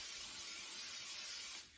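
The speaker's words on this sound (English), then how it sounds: "Then I am going to spray a 9x13-inch pan" Cooking spray hissing onto a 9x13-inch baking pan in one continuous close, quiet spray that cuts off just before the end.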